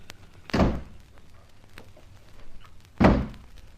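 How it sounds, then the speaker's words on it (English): Two solid car door thunks in a radio drama, one for each side of the car, about two and a half seconds apart, close and fairly loud against a quiet background. "Now, you shut the door on your side, Miss Dick Turpin, and I'll do ditto on mine"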